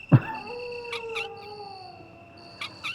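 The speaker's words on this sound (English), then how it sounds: "These dogs sound weird as well." Dogs howl in the horror video game Resident Evil: a sharp yelp opens into long, wavering, eerie howls layered with thin high tones and short bursts, close and clear with no speech.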